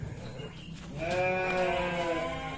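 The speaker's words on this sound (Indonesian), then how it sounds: "Banyak kambingnya." Goats bleat in a drawn-out, wavering cry that swells and holds before fading, close by over a soft background murmur.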